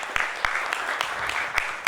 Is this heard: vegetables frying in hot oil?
no